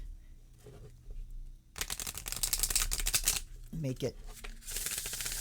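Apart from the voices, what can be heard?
shuffling a deck of oracle cards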